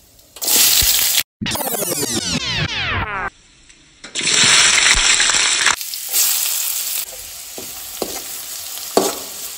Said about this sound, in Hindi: ओनियन को हम हल्का सा फ्राई करेंगे, कुछ ज़्यादा फ्राई नहीं करेंगे।